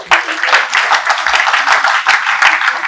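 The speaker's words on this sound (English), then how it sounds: "A big round of applause for the entire organization." An audience at a national university conference applauds the organizing team, a dense, loud burst of many hands clapping in quick uneven rhythm, sustained throughout without talk.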